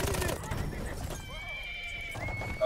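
A horse whinnies loudly over a busy Battlefield 1 multiplayer soundscape with hoofbeats, rising then trailing off, with a brief voice near the start.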